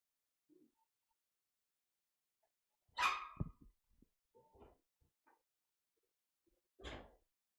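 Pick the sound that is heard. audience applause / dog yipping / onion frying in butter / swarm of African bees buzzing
dog yipping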